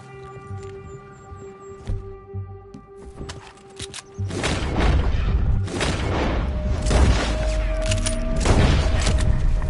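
Gunfire in Red Dead Redemption 2: after a few isolated shots, a heavy sustained barrage of booming gunshots crashes in and continues loudly, mixed with hoofbeats and horse movement, with music under the opening seconds.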